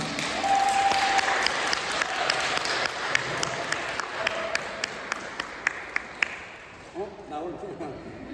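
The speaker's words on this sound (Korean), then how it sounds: "여러분 우리 7학년 5반 평균 나이 등장할 때는 박수로 환영해 주시기 바랍니다." A church congregation at a Sunday worship service claps to welcome people coming forward, a sustained round of applause with sharp individual claps standing out, fading toward the end as a voice begins speaking.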